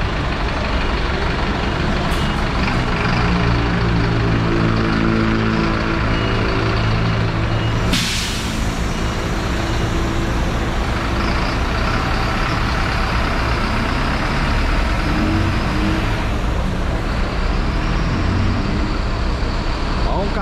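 An intercity bus on the Brasília–Palmas route pulls out of a bus station, its engine rumbling loudly with a sharp air-brake hiss, surrounded by constant traffic noise.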